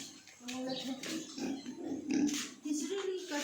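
Farm pigs grunting and oinking close by in their pen after feeding, a steady run of low grunts throughout, with people talking nearby.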